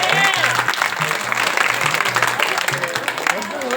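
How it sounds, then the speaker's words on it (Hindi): An audience claps for a singer at a village Bhagwat Katha gathering, a dense burst of applause mixed with voices and a low droning tone. "ताली बजाओ हमारे भैया के लिए।"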